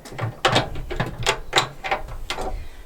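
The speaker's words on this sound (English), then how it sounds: "we're going to just unscrew 1 bolt" Metal bolt being unscrewed from the base of a campervan passenger seat, a series of close ratcheting clicks and scrapes repeating roughly twice a second.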